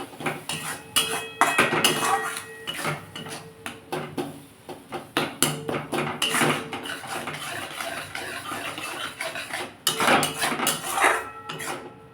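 Masala being sautéed and stirred in a pan with salt and sugar, a utensil scraping and clattering against the metal in busy, repeated strokes, close and fairly loud with no talking.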